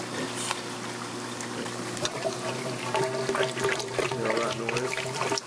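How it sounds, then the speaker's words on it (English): Water gurgles and rushes loudly down the drain of a Reef Dynamics XRC2000 aquarium protein skimmer with the silencer cap removed, a continuous splashing, trickling flow with no voices. "put the silencer on the cap so the drain's not loud, because without it, it sounds like this"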